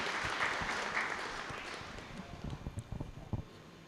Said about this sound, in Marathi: आपण जोरदार टाळ्या वाजवून त्यांचंही स्वागत करूया.